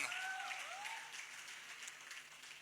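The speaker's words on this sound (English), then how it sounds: "I'd like to hear a round of applause for a man." Applause from an audience at a press conference welcoming a Bollywood star, a faint, distant and continuous patter of clapping with a brief whistle-like tone near the start.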